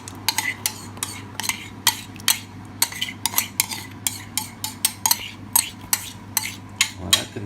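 A utensil stirs a mixture into an asparagus velouté in a pot, making a steady run of quick, close metallic clinks and scrapes against the side, roughly two or three per second, with no talking.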